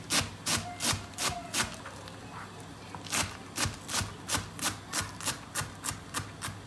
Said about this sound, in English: She's chopped the coriander